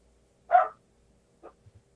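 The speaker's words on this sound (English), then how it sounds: "that dog's barking again" A single dog bark sounds at a moderate distance, followed a second later by a fainter, shorter bark and a couple of soft low thumps, with near silence in between.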